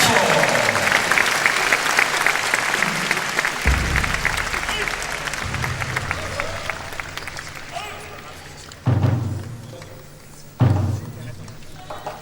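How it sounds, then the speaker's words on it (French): Arena audience at Bercy applauds a Shorinji Kempo martial arts demonstration, dense sustained clapping for about nine seconds that thins out, broken by a couple of loud thuds near the end. "Sous vos applaudissements, merci."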